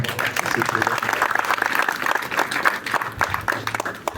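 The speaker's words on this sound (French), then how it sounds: "on va applaudir pour notre maman" Audience at a youth association gathering welcoming a senator applauds for their mothers, a dense steady patter of many hands lasting throughout, with voices talking over it.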